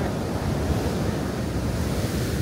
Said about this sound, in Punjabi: ਦੇਖੋ ਕਿੰਨੀ ਸਪੀਡ ਨਾਲ ਪਾਣੀ ਜਾ ਰਿਹਾ